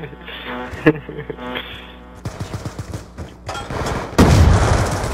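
Video game combat with rapid gunfire bursts followed by a loud grenade explosion near the end, mixed with game sounds and some talk.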